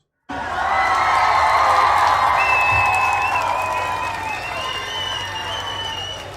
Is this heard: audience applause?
yes